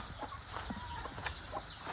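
Chickens clucking around a rural Lao farmyard home, with short scattered calls at moderate distance over a busy ambient background.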